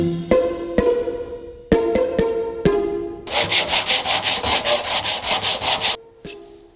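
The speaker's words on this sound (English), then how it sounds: "And now the sanding is done and the surface is nice and smooth." A wooden nameplate is sanded by hand. A few knocks and thumps come first, then a close, loud run of rhythmic back-and-forth rubbing strokes that stops abruptly, followed by one more brief scrape.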